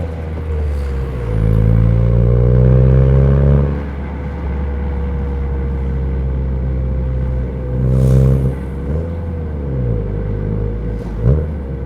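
An FK7 car with an HKS Hi-Power Spec L2 muffler rises and falls through several gear changes in city traffic, with sharp throttle blips on the downshifts and a deep exhaust rumble throughout, close and loud.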